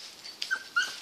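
A dog gives short, high whimpers, a few thin whines close by in a quiet setting.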